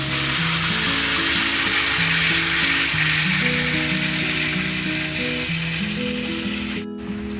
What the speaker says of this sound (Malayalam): ഇതിലേക്ക് അരച്ചെടുത്ത ടൊമാറ്റോ മിക്സ് ചേർക്കാം